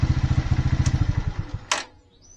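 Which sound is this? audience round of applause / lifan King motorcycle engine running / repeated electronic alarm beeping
lifan King motorcycle engine running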